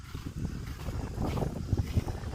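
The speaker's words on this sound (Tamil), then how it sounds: "நல்லா காற்றடிக்கும். இங்கே பகலில் காற்றடிக்கும்" Strong daytime wind buffets the microphone outdoors, a rough, gusty low rumble that surges and dips in uneven bursts with no voices.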